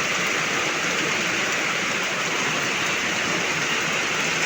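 Steady rain falls in a rural province, a dense, even hiss that holds without a break and without any voices.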